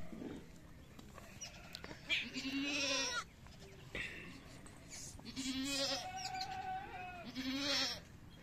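Two young goat kids, one male and one female, bleat in short, faint repeated cries alongside their mother, with quiet background noise and occasional soft human voices.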